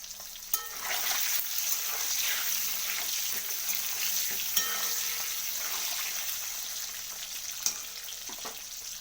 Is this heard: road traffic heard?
no